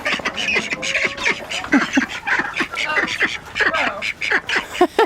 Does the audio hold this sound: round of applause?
no